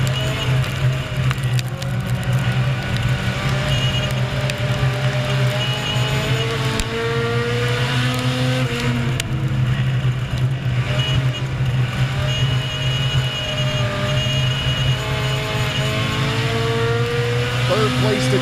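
Race cars roar around the track at Lawrenceburg in a continuous, loud engine drone with shifting revs, while an announcer's voice runs over the noise throughout.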